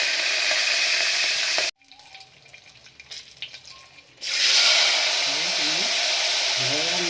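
Curry leaves dropped into hot oil with mustard seeds and cumin in a pan for a Gujarati cluster bean and potato curry give a loud, steady sizzle and crackle, briefly cut and muffled before the full hiss returns.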